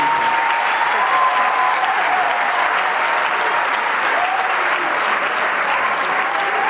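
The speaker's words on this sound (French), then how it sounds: "Les applaudissements, s'il vous plaît." Loud, continuous applause from a large audience at a diploma ceremony in Brazzaville, a steady dense wash of clapping that holds evenly throughout with no speech.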